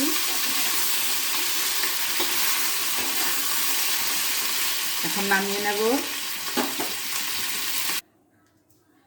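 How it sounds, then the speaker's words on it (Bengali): A fish head frying in hot oil in a pan, a loud continuous sizzle with stirring scrapes, a brief voice speaking partway through, then the frying sound cuts off abruptly. "এই যে মাছের মাথাটা ভাজা হয়ে গেছে, লাল লাল করে ভেজে নিয়েছি।"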